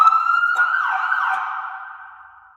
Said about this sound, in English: You've got a number of different styles of siren just by turning the dial